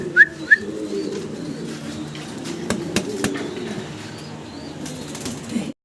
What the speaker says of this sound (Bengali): এক পেয়ার মডার্না কবুতর দেখাচ্ছি